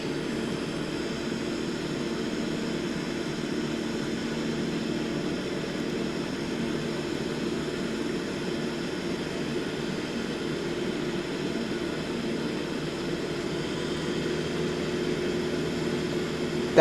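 Boeing 787-9 jet engines in Microsoft Flight Simulator 2024 give a loud, steady low-pitched roar and hum, an unbroken drone with no change in level throughout.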